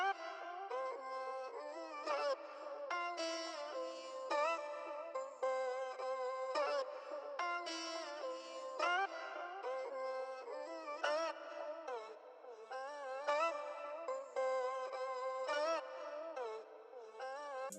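A rendered vocal sample, doubled and pitched up one octave, sings a wavering, melismatic high line in repeated phrases, thin and bright with no low end, fairly quiet and alone.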